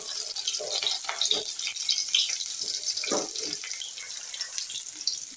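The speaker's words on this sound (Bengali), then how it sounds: "পেঁয়াজ আর রসুন তেলের উপর দিলাম।" Chopped onion and garlic hitting hot oil for a dal curry, a busy crackling sizzle that runs steadily, with faint speech underneath.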